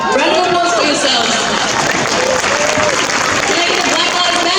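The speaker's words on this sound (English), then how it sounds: "Round of applause for yourselves" A large outdoor protest crowd in Auckland applauds and cheers, loud and continuous, with shouting voices and chatter mixed into the dense clapping.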